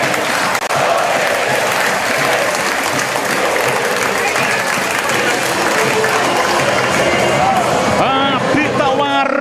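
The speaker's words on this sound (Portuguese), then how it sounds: "A torcida faz a festa aqui no Majestoso." A football stadium crowd roars and celebrates at the Majestoso ground during a Ponte Preta versus Ituano Campeonato Paulista match, a loud continuous wash of cheering and chanting, with a radio commentator's voice briefly over it near the end.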